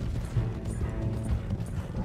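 Horse galloping in Red Dead Redemption 2, a steady low rumble of hoofbeats running continuously and fairly loud, blended with game background noise.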